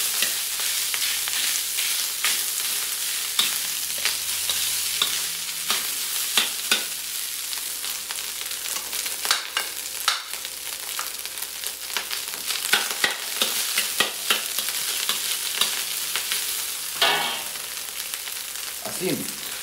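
Cooked rice being stir-fried with plenty of garlic in a hot pan, with steady sizzling and frying hiss throughout and repeated scraping, clattering stirs of a spatula against the pan.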